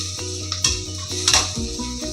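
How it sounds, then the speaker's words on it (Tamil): Chopped tomatoes and onions sautéing in a pan for paneer vegetable biryani, a steady sizzle and hiss with a few scrapes and taps of a spoon stirring against the metal, close and clear. "இப்போ வர தக்காளிலாம் இப்போ நல்லா வதங்கிடும் பாருங்கள் ஒரு நிமிஷத்தில்."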